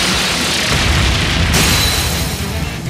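The Brionac cannon in Trails of Cold Steel III fires a massive blast. A loud, sustained roaring boom carries through the whole stretch, swelling with a bright crackling burst midway, with no talk.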